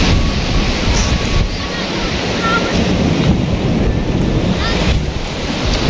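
Sea waves wash in continuously at Bagasbas beach in Daet, Camarines Norte, with loud, steady surf roar and heavy wind buffeting the microphone throughout.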